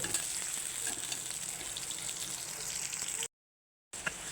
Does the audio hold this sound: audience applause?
no